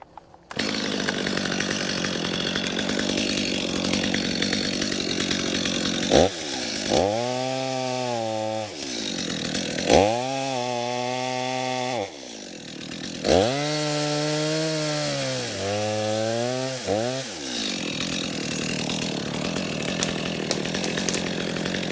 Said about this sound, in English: if we just cut this tree down below the lowest branches, that's going to take care of this issue